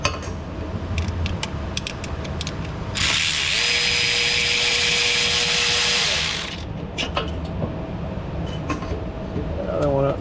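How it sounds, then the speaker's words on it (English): A power tool drives an inverted E-Torx socket to remove a stud from a ZF 8/9-speed automatic transmission, a loud, close whine lasting about four seconds with a rising pitch. Clicks and clanks of handling come before and after it. "Got an E-Torx socket, inverted. Splines in right there like that."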